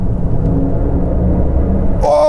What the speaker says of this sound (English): it sounds like it comes out of a spaceship or a Star Trek movie. When you accelerate, you hear it.